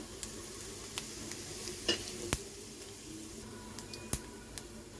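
Whole garam masala, cumin and bay leaves sizzle in hot oil, a soft steady hiss punctuated by a few sharp pops and light metallic taps, close and fairly quiet.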